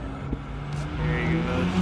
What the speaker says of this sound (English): I did the best burnout I possibly could